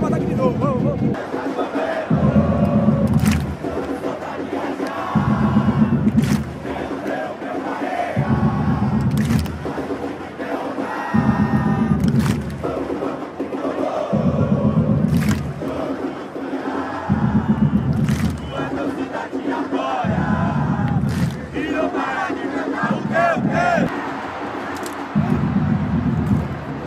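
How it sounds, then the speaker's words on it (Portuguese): Bahia football supporters chant in a packed stadium during a Bahia versus Juventude match, a loud, continuous roar of massed voices with rhythmic low pulses repeating throughout. "E a torcida aqui não para."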